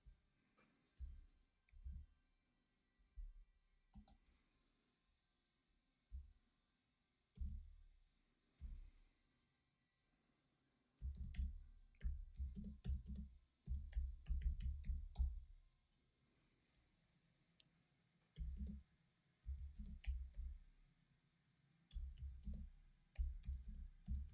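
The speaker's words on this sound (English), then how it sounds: "I'm typing a message here." Typing on a computer keyboard, faint and close, with scattered single key clicks at first and then denser bursts of rapid tapping separated by brief pauses.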